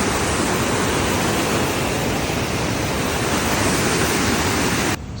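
River Lay rushing beneath a footbridge on a mountain trek: a steady, dense roar of flowing water, close and loud, that cuts off abruptly near the end.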